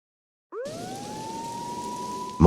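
A wailing police siren from the game Max Payne 2 rises and holds a steady tone, with steady rain hissing underneath throughout, followed by a sudden loud burst at the very end.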